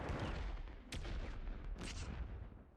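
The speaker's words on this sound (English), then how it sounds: "That's a grenade launcher." A grenade launcher fires in a shooting video game, producing two sharp blasts with heavy low booming rumble around them that fades at the end.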